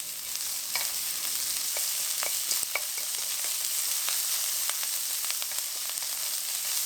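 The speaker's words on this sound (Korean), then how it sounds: "당근 슬라이스 햄 넣고 볶아줍니다" Carrot and sliced ham stir-frying in oil over medium heat, a continuous bright sizzle with scattered crackles and occasional spatula scrapes, close and steady with no voices.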